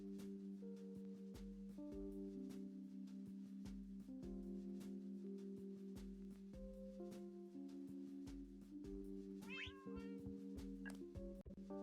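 Several Minecraft cats meow repeatedly, among them calico, black, orange, jellie and white cats, with short overlapping mews over steady game music and no talking.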